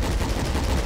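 Gunfire in the wartime strategy video game Men of War, a dense rattling burst of rapid shots with low rumbling impacts, loud and continuous across the brief moment.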